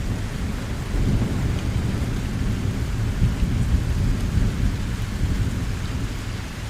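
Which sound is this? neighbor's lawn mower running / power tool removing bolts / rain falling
rain falling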